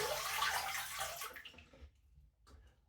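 Tap water runs into a bathroom sink after a shave, a loud gushing stream that cuts off after about a second and a half, followed by a few faint drips and gurgles.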